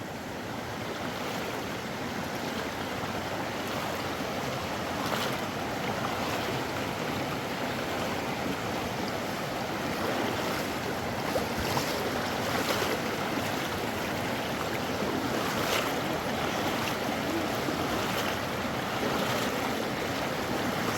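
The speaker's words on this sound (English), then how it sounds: "Sound of that water is just absolutely beautiful and calming." Water flows steadily over a creek ford in wooded Cherokee country, a continuous broadband rush with no pauses, moderately near and alone without voices.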